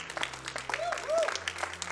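Audience applause at a speedrun event during a Castlevania: Symphony of the Night run, a faint, distant patter of clapping from a crowd, mixed with game sounds and a speaking voice.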